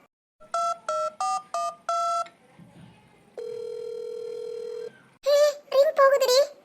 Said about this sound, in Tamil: ரிங் போகுதுடி